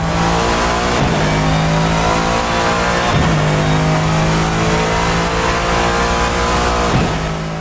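A Lexus GT3 race car in Assetto Corsa roars loud and steady at high revs, with sharp gear shifts dipping the pitch around the one, three and seven second marks before it climbs again.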